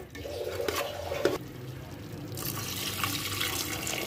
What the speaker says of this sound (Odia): ଏବେ ମୁଁ ସେଥିରେ ଦେଇଦେବି ପାଣି ଆଡ଼୍ କରିଦେବି।